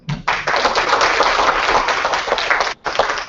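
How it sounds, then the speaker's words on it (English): Audience applause for three distinguished speakers at an open-government forum on policing in Bali: dense, steady clapping from a crowd, close and loud, with a brief dip near the end before it resumes. "We give them an applause."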